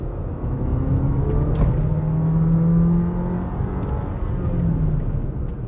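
A Jeep Compass Longitude T270 SUV accelerates from inside the cabin, a steady engine drone rising in pitch through a gear, then dipping and climbing again, loud and continuous with no talking.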